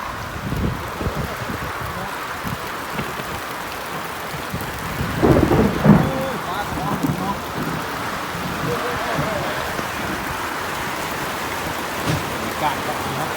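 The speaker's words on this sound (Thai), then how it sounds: "ฝนตกครับ" Steady rain pours down with thunder rumbling through it, including a louder close roll midway, while workers out in a cold downpour talk faintly underneath.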